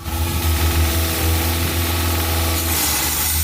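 A car engine idling with a steady, loud low rumble and a faint rhythmic churn while Seafoam cleaner is poured slowly into the intake. Gusty outdoor wind sits underneath, and nobody speaks.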